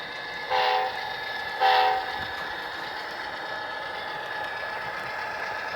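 A steady model train rumble runs throughout, an Amtrak P42DC locomotive leading a passenger train, with two short horn blasts sounding near the start.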